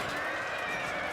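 Horses of a cavalry unit whinny and neigh in a Fall of the Samurai video game battle: a loud, continuous, shrill neigh over dense battle noise and hoofbeats.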